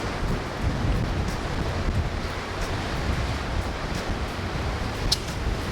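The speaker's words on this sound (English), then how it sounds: "It is quite windy." Strong wind buffets the microphone on a bastion of Galle Fort, a steady loud roar with surf-like rushing and no clear voices.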